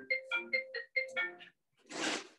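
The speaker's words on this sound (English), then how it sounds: "sorry about that, that's my phone." A mobile phone ringtone plays in a quiet room, a short run of bright musical tones followed by a brief breathy burst.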